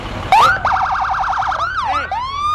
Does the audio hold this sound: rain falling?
no